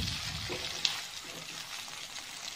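Small chopped onions frying in a pan for egg thokku masala, a soft, even sizzle close by with one brief clink near the start and no voices.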